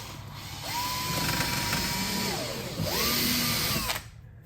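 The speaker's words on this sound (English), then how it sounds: "You always got to pre-drill when you're dealing with this thin pine." Power drill pre-drilling thin pine whirs up, runs steadily, winds down, then spins up again for a second short burst before stopping; close and moderately loud.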